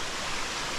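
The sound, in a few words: waterfall in a valley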